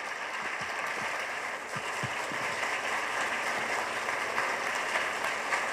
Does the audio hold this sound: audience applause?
yes